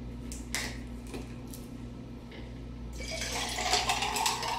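Orange juice pours into a cocktail glass for a Bulldog mixed drink, a brief splash and then a steadier liquid stream building over the last couple of seconds, close and moderately loud with no talk.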